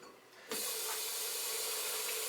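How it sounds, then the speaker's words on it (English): A glass rinser blasts cold water up into a beer glass, starting suddenly with a loud, even hiss of spray that carries on steadily at close range with no talking. "I have a glass rinser that I use."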